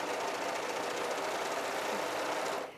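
A Viking Amber S 100 serger runs at steady speed stitching a single layer of fabric, giving a continuous close mechanical whir that stops abruptly at the end.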